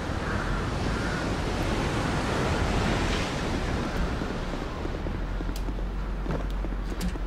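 Continuous surf of sea waves breaking below a cliff in Dark Souls 2, a dense, even rushing wash with a wind-like hiss, a few faint clicks near the end.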